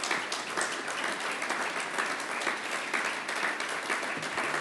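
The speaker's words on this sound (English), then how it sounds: "feel free to applaud" Audience at a prime minister's speech in Manchester applauding steadily, a sustained, fairly loud burst of many hands clapping with no speech on top.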